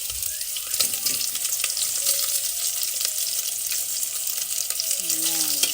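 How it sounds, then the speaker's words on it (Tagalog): Meat browning in a hot pan for kare kare, a continuous close sizzle and hiss with occasional scrapes and stirring clatter. "Ibabrown ko lang siya ng fry konti bago natin palambot"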